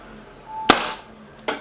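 A Walther Rotex RM8 UC .177 air rifle fires once with a sharp, close crack, followed moments later by a second short impact snap, in a quiet setting.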